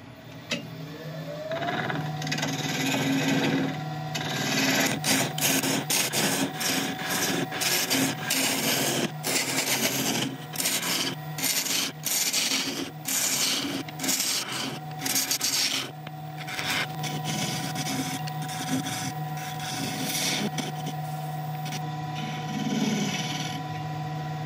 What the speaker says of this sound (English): I'm just gonna hollow this out a little bit from just inside the edge